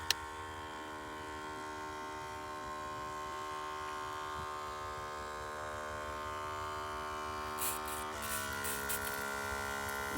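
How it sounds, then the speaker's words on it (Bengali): A battery-powered automatic sprayer pump runs in a vegetable field, giving a steady, fairly quiet electric whine with a constant buzzing tone that shifts slightly in pitch partway through, with brief faint knocks near the end. "এটা হচ্ছে ডিজিটাল মেশিন এইদিকে ব্যাটারির মেশিন হাত দিয়ে পাম্প করতে লাগে না"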